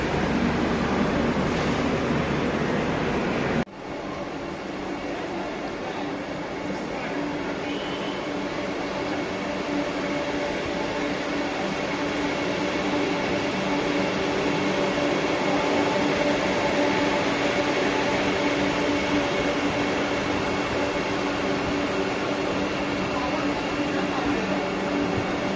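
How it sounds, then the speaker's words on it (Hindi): A Vande Bharat Express semi-high-speed train at a station, a steady loud rolling rumble and hum of rail cars after a sharp clunk early on, with faint talk in the background. "ये देखिए यहाँ पे आएगी ट्रेन।"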